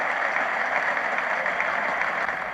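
A cricket crowd at a 1975 Ashes Test applauds a hooked boundary four, giving a steady, dense wash of distant clapping that holds evenly throughout without a clear peak.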